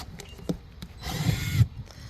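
A power drill bores drainage holes in a garden pot, giving one short whirring burst of about half a second amid faint handling knocks, close and moderately loud.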